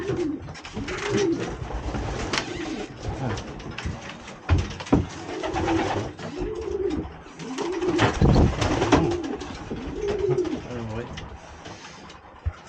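Racing pigeons cooing in a loft, with repeated low, rolling coos close by, mixed with wing flutters and shuffling, while people talk over them.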